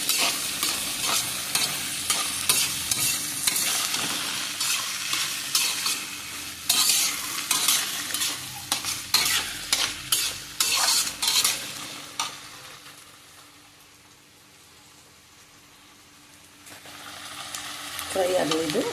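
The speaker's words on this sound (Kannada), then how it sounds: "ಚೆನ್ನಾಗಿ ಫ್ರೈ ಆಗಬೇಕು. ಬಟಾಟೆ ಮತ್ತು ಸ್ವಲ್ಪ ಬೇಯಬೇಕು, ಅದು ಚೆನ್ನಾಗಾಗುತ್ತೆ ಎಣ್ಣೆಯಲ್ಲಿ." Cluster beans and potatoes fry and sizzle in hot oil while a spoon repeatedly scrapes and stirs the pan, loud and close, easing to a quieter sizzle near the end.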